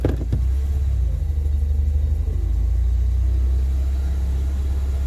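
A warmed-up car engine idling steadily after reaching operating temperature, a continuous low rumble with a faint whine above it, close and fairly loud with no talking.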